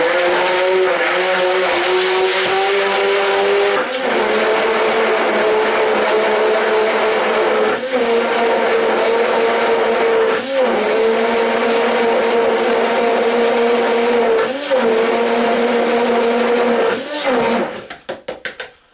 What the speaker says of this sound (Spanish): Batidora.